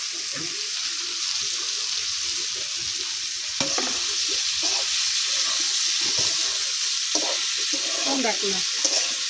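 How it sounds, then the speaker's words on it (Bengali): Bitter gourd (karela) frying in a pan crackles and sizzles steadily up close, with intermittent spatula stirs and scrapes, briefly louder partway through. "আজ করলা ভাজি বসাই দিছে।"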